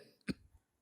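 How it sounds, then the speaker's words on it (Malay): A single sharp cough from a man, one short burst with a brief rough tail, fairly close and alone. "Batuk."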